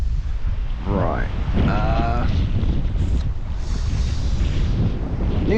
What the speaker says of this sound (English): The wind is pushing me in the right direction anyway.